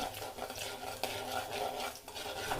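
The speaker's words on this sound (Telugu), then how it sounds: "ఇందులో ఉద్దిపప్పును వేసి కలుపుకోవాలి" A spoon stirs urad dal into a hot tempering of cumin, mustard seeds and chana dal in a pan, giving a steady close scraping and rattling with a light sizzle underneath, no voices.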